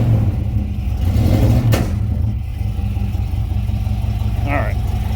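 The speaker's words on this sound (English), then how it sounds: "You hear the exhaust?" Car exhaust rumbling as the engine idles and revs steadily, a loud continuous low drone close by, with a brief swell partway through.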